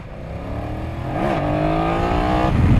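A 2020 BMW F 900 motorcycle engine revs up while riding on a slippery road, pitch climbing steadily and then holding in a loud, close, continuous drone with no talk.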